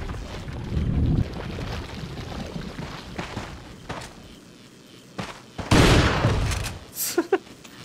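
Shotgun blasts in Resident Evil 4, several loud booming shots at irregular intervals over game ambience, with a sharp burst near the end.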